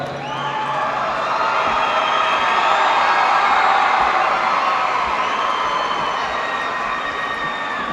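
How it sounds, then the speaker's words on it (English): A graduation ceremony crowd gives sustained applause for parents and supporters: a dense, steady wash of clapping and cheering with scattered whoops that holds at a constant loud level for the whole stretch. "Graduates, please give those who supported you a big round of applause."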